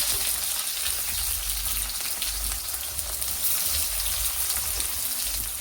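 Onions frying in a pan for egg rice give a steady, close, dense sizzle and crackle that holds evenly throughout with no talking.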